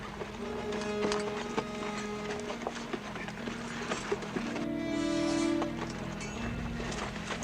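Horses' hooves clop on the ground as riders dismount in a 1967 western film, an irregular series of close hoof thuds with shuffling and film background noise.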